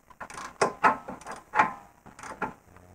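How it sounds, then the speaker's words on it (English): Wrench and T40 counter hold tightening a nut onto the shaft of a BMW F2x/F3x lower control arm (wishbone): a series of close, short metallic clicks and creaks in uneven bursts, loud and alone. "Now we'll use our open-ended wrench or 21 millimeter wrench and our T40 counter hold to tighten the nut all the way onto the shaft"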